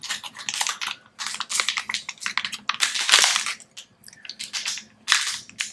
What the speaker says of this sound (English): I'll just rip that open.